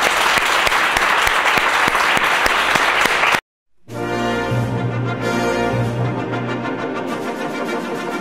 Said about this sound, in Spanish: Depende lo fuerte que suenen los aplausos